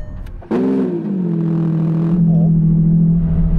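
A Lamborghini Revuelto engine cranks and catches with a sharp burst, then settles into a steady, close, humming idle.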